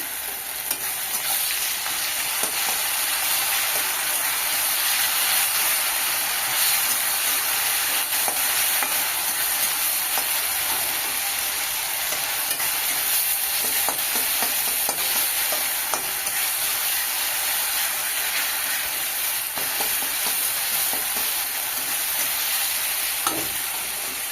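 Ginger garlic paste frying with browned onions in a pan for egg and potato curry, a constant loud sizzle with occasional scraping stirs of a spoon, no voices.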